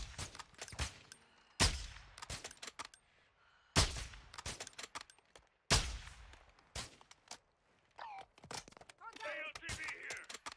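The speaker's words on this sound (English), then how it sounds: "I'm shooting out the tires." Video game gunfire shooting out vehicle tires, with sharp bursts of rapid shots in several separate volleys, loud and close, followed by scattered clatter and metallic impacts.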